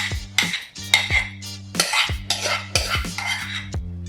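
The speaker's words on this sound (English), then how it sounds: "Make sure to spread the batter into the pan" A utensil spreads cake batter into a bundt pan, making a string of close, loud scrapes and clinks against the metal in an irregular rhythm with short pauses. A steady low hum sits beneath them and no one speaks.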